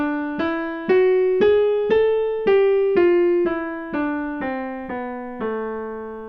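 A melodic minor scale played note by note on a sustained, piano-like instrument, about ten evenly spaced tones climbing and then stepping back down, clear and alone.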